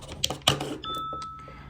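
Apple AirPods Pro 2 charging case giving a short, soft electronic chime when plugged in, a brief steady tone that rings out clearly after some faint handling noises.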